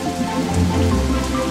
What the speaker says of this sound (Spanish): es lluvia mágica